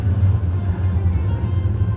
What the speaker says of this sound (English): sorry for the noise, that's a tram at the back.